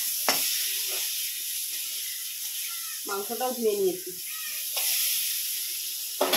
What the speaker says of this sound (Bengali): এবারে হচ্ছে পটল ভাজা, পটলটা ভাজবো